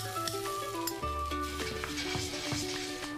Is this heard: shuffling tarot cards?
no